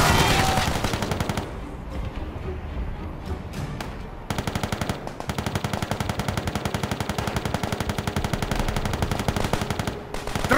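Rapid, sustained machine-gun fire in Call of Duty: World at War rattles continuously, dense and loud, with a brief lull before the shooting resumes and keeps going.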